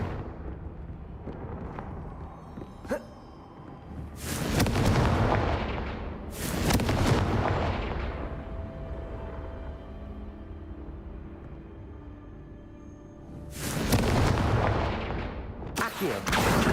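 Confringo fire spell explosions in the video game Hogwarts Legacy: three or four loud, broad blasts, each rolling and decaying over a couple of seconds, with a sharp crack and a rumbling background of combat.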